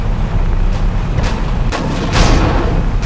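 Machine gun fire from a Tier 2 machine-gun tank in the video game War Machines, a loud, dense wash of rumbling gunfire punctuated by several heavy booming bursts, sustained throughout with no talking.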